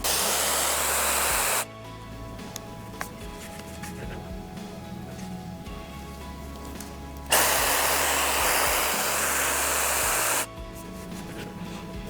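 A Chinese clone of the Dyson AirWrap hair styler runs while curling hair, giving a steady close airflow hiss that steps louder twice when the airflow changes, with a quieter stretch in between.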